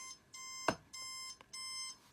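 Electronic alarm clock beeping in repeated pulses at moderate volume, interrupted by a brief clatter partway through.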